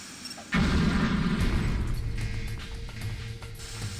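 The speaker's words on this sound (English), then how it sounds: "they probably just heard an explosion" An explosion in Metal Gear Solid: The Twin Snakes bursts in suddenly and loudly after a brief quiet, then rolls on as a heavy, rumbling roar that slowly fades with rattling debris-like crackles.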